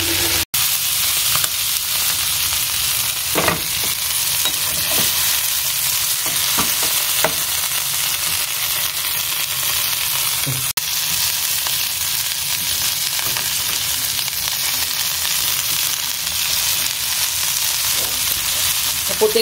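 Tandoori chicken pieces sizzle and fry steadily in a pan, a close, continuous crackle with occasional louder spits and stirring scrapes, no talk over it.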